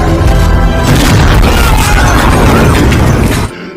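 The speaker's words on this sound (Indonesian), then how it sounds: "Sungguh disayangkan sekali, bom tersebut malah meledak di tangan Hiriluk" A massive, sustained bomb blast from a One Piece live-action series, a loud roaring boom that fills the whole spectrum for over three seconds before cutting off abruptly.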